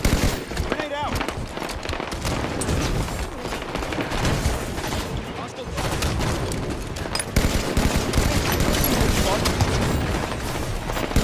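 Halo 5: Guardians multiplayer battle with a grenade blast amid sustained rapid gunfire, loud and continuous throughout, with in-game voice callouts mixed in.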